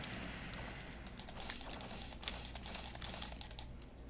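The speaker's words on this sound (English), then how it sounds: "Sorry for the intense clicking" Rapid, intense computer keyboard typing and mouse clicking during a Grand Piece Online game, a dense stream of close clicks with a steady background hum and no speech.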